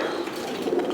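Pigeons at a sale of breeding pairs give a soft, low cooing, faint and close, with a little background murmur.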